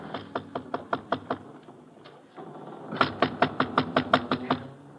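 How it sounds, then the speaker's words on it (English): Two bursts of sharp knuckle raps on a ship's cabin door, first a quick run of about seven knocks, then after a brief pause a louder, steady series of about ten, close and distinct with no talk over them. "he knocks on the door"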